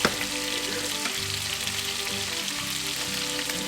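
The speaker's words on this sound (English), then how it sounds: "you want to keep stirring the bottom" Gravy in a pot being stirred, a continuous bubbling sizzle under faint harmonic hum and scraping from the spoon along the bottom, close and steady with no talk.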